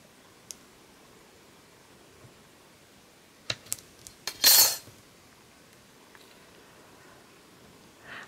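A blade slicing through a piece of polymer clay on a work surface: a few quiet clicks and taps, then one brief, sharper press and scrape, with near silence before and after.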